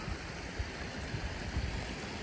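Waterfall in the Peak District, seen from the bottom of a steep climb at its lower drop, giving a steady, broad rush of falling water with no talk.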